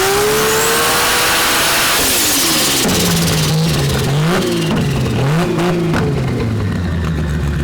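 Nissan GT-R 'Punisher' revving hard on a dyno at a GT-R festival, a loud, close engine rising in pitch, then bouncing between revs with sharp shifts and crackles.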